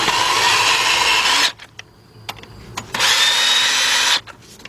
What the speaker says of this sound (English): Let's tighten up the two 10mm bolts right down in here.